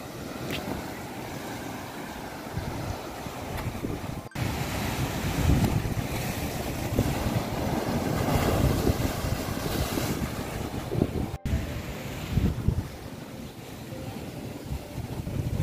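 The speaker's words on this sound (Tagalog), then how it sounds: "Medyo malakas ang alon." Strong sea waves surge and wash continuously against the shore, loud and close, with heavy wind rumble buffeting the microphone throughout and no talking.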